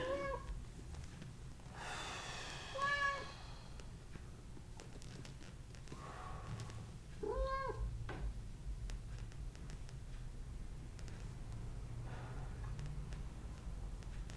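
Several cats meow in short tonal calls, two or three bursts spread across the stretch, fairly close, over a steady low outdoor hum during a morning yoga session.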